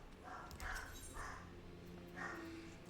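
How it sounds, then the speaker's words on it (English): A dog barks several times at a distance, short yelping barks spaced irregularly over a low background hum, faint and somewhat muffled. "Dog is going crazy right now."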